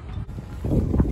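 Wind buffets the microphone outdoors during a house move, a low rumbling roar that swells louder in the second half of the short moment, with no clear speech over it.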